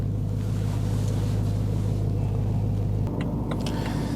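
A 2013 BMW M3 E92 on a test drive, a steady, deep engine and road rumble heard from inside the car with slight variation and a few faint clicks near the end.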